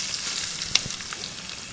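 Sliced onions drop into hot oil over a ready masala base for capsicum salan, crackling in an even, close sizzle with a brief sharper pop partway through.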